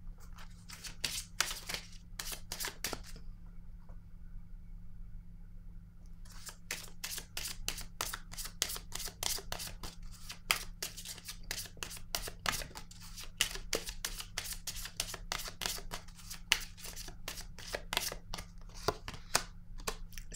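Oracle cards shuffled and drawn, rapid papery riffles and flicks in repeated quick bursts with a short quiet pause, close and fairly soft over a low steady hum.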